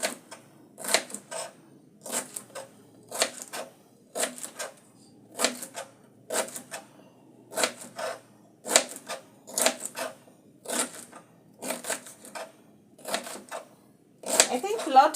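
A knife chops celery on a cutting board for juice, giving a steady run of crisp, evenly spaced cuts, close and clear, about two per second against a quiet background.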